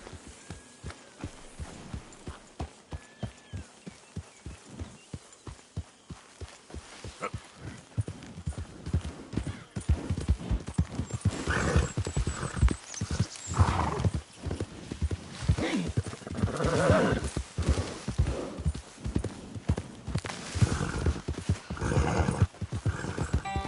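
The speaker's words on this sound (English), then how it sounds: "that's one nice-looking horse you got there" A horse in the Red Dead Redemption 2 video game clops along in a steady rhythmic gait that quickens and grows louder midway, with a whinny in the mix.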